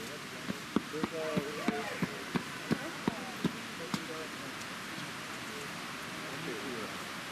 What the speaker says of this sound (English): It started raining when I was in there